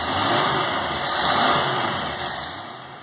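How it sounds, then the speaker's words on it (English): A rebuilt V8-style marine engine in a 1962 Sling Seaskiff boat, fitted with an electronic distributor and a Holley four-barrel carburetor, runs loud and close, its revs swelling up and easing back down with no talk. "The rebuilt engine now performs better than new. Rev it a couple of times."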